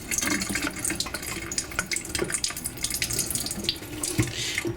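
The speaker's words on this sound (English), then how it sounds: "Now run your water on slow and go by the edge here, so that you don't touch the rice to stir up the milky stuff." A kitchen tap runs slowly while rice is rinsed in a pot, the water splashing and trickling steadily with small irregular bursts, close and moderately quiet, with no talk.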